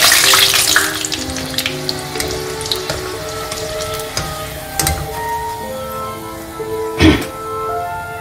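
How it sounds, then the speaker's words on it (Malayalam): Chicken kachori deep-frying in hot oil, a continuous close sizzle and crackle with occasional sharper pops and the clink of a utensil near the end. "അതുപോലെ ബാക്കി കൂടെ ഫ്രൈ ചെയ്തെടുക്കാം."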